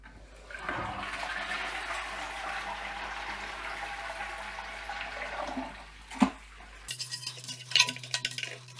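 A toilet cistern is flushed to drain off murky, cloudy water after cleaning, giving a long steady rush of water that ends with a gurgle and is followed by a few clinks and small splashes.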